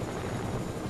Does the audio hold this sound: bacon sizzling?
no